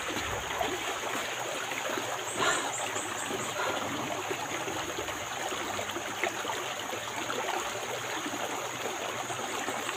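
A small stream flows steadily nearby, a soft continuous rush and trickle of water with no talk.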